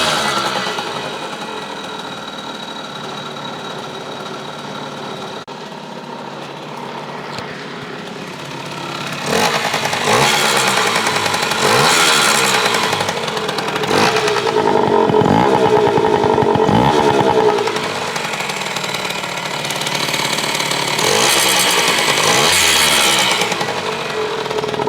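A small two-stroke Yamaha GT80 motorcycle engine runs up close, buzzing and crackling unevenly, then grows louder with repeated revving bursts and rising and falling pitch, with no talking over it.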